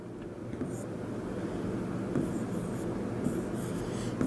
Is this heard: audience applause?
no